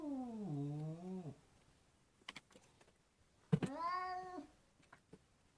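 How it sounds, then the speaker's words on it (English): A cat in a home video, two drawn-out, wavering meows separated by a pause with light clicks and shuffling, close and fairly clear against a quiet room. "That's Farah with the cat"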